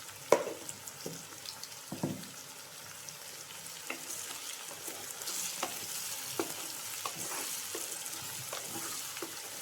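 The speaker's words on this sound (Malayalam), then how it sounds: "ഉള്ളി പെട്ടെന്ന് മൂക്കാനായിട്ട് കുറച്ച് ഉപ്പ്" Onions frying with a pinch of salt for chicken roast, a close, even sizzle broken by repeated clicks and scrapes of stirring, no voices.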